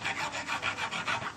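A hand file rasps back and forth on a small screwdriver ratchet gear part braced against wood, each stroke a gritty scrape in a steady, even rhythm, close up.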